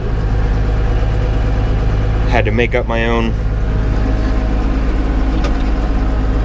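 An old farm tractor engine idles steadily with a low, constant rumble, while someone talks briefly over it partway through.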